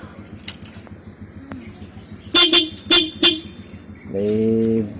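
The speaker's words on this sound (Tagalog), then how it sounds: "may busina na rin." A reconditioned motorcycle's horn gives three short, loud toots in quick succession, then one longer steady blast, over a quiet background.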